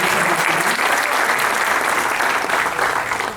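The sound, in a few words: audience applause at poetry recital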